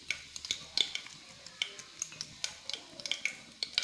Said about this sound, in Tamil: அப்புறம் சோம்பு, சோம்பெல்லாம் பொரிஞ்சு வரணும்